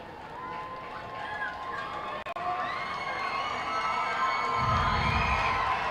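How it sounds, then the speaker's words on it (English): A large crowd at a minor-league baseball game in Sugar Land keeps up a continuous distant roar and cheering, swelling slightly toward the end with a low rumble of noise. "Strong crowd on hand here in Sugar Land, hoping to get behind their team"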